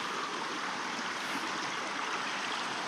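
Water rushes steadily through a single-line pipe feeding six people, in a rubber plantation area near Mannarkkad, a continuous broadband gush that stays loud and even with no voices over it.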